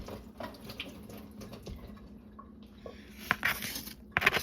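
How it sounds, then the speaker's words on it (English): Peeled garlic cloves rinsed under a kitchen tap: a soft, uneven trickle of running water with light splashes and handling noises, growing a little louder and busier toward the end. "I'm just gonna take the skin off, and I'm going to give them a little rinse"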